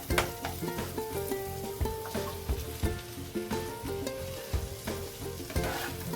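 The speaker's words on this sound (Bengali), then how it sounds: "এখন আমি ছোলাগুলো দিয়ে দেবো।" Boiled chickpeas tossed into frying masala for chola paneer, a steady loud sizzle with rhythmic spoon scraping and clinking against the pan throughout, close up and with no talking.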